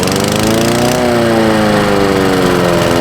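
A lawn mower runs in a front garden, a loud, steady engine drone with a slight pitch sag partway through, close by and continuous, with no voices over it.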